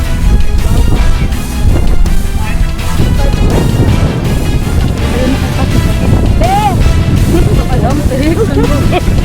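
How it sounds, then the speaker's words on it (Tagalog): Strong storm wind roars continuously across a hilltop campsite in Tanay, loud and unbroken, with excited voices shouting over it. "Ang hangin!"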